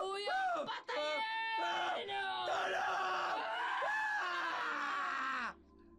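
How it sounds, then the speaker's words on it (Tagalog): A woman screams in pain in a dramatized audio story, a loud, drawn-out cry in several long strained bursts that breaks off abruptly. "Panay ang sigaw ni Bugs"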